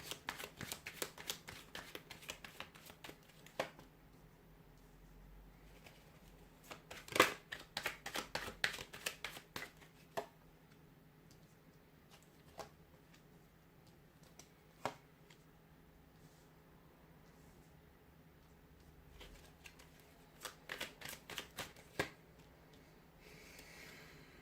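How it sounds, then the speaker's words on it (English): Tarot cards riffle and slap as they are shuffled by hand, quiet and close, in irregular bursts of rapid flicks separated by softer handling. "We'll give the cards a shuffle and see what they're predicting for you for this coming month."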